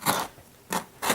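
Scissors cut into tightly sewn packaging around a MacBook Pro: three sharp, close snips, with one quick cut, a pause, then two more in fairly quick succession.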